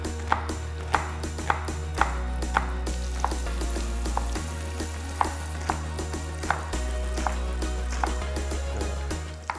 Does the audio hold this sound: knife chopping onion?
yes